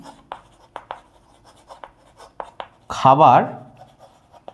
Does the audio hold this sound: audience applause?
no